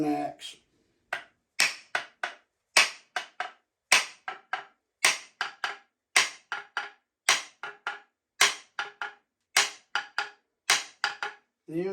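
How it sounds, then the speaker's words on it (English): A hammer tapping an axe head down onto a hickory handle: a long series of sharp, close metallic knocks in quick clusters with short pauses between, repeated steadily throughout. "Tap it on in with a hammer."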